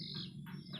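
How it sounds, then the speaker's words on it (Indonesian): Near the lakeside at the Jatiluhur reservoir, a bird gives a few quick, faint chirps in succession, thin and distant, with no speech. "Burung boy."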